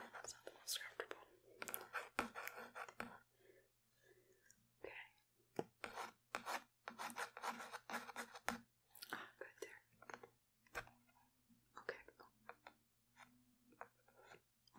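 Soft close scraping and rasping on teeth in a dentist-themed ASMR setting, with irregular gritty strokes and clicks, under quiet whispering throughout.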